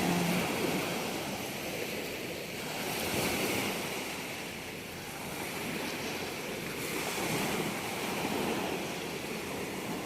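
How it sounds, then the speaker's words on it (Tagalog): Waves roll onto a seashore in a steady, broad wash of surf that swells and eases every few seconds, mixed with wind noise and no talking. "Nandito na po ulit kami sa tabing dagat."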